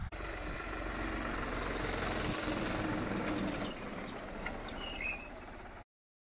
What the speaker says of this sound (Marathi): लय दिवसाच्या बाद ट्रॅक्टर चाललेलं आहे